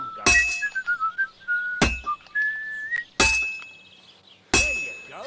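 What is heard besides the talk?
hammering a sword and whistling, from video game Kingdom Come Deliverance 2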